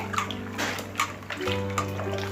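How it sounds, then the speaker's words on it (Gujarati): Chopped karenda berries being washed by hand in a bowl of water, a close, steady splashing and swishing that carries on alone for a couple of seconds. "હવે જે આપણે કારેંગણા સમારેલા હતા એને બરોબર ધોઈને હવે આપણે આ રીતે બરોબર ધોઈ લેવાના છે."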